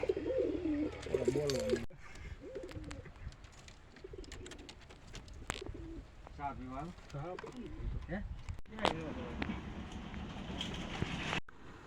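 Pigeons coo in soft, rolling bursts nearby while people talk on a village road, with street sounds and a rain-like hiss in the background.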